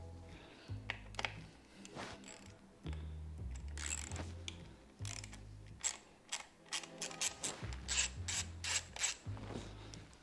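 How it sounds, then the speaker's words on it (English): A mini ratchet turning a 4mm bolt on a Canyon bike, with repeated bursts of quick clicking pawl ratchet strokes up close, alternating with brief pauses. "Get my trusty mini ratchet. Got the 4mm."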